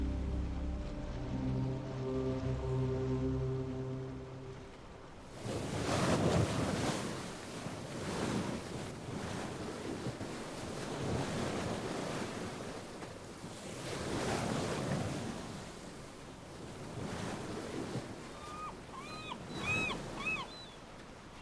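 Ocean waves and wind out on the Pacific from a sailing ship, a steady surging wash with gusty wind noise rising and falling, after a few seconds of music at the start.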